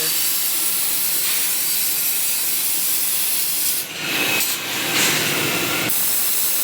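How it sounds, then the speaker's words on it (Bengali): Large factory machine cutting aluminium, a loud continuous abrasive rushing grind with a brief dip in intensity partway through, heard up close with no talk. "এটাতে অ্যালুমিনিয়াম কাটে"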